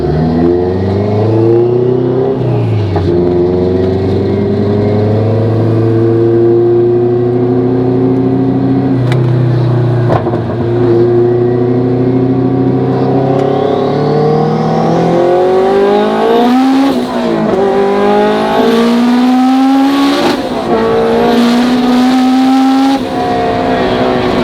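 A 2022 Honda Civic Si with its traction control engaged accelerating hard through the gears, a loud close engine note rising in pitch with each pull, shifting down and climbing again.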